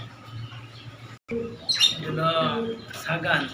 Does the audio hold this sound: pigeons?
yes